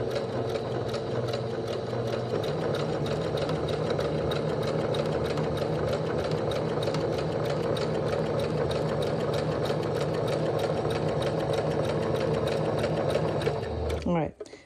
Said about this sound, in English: just sew along the edge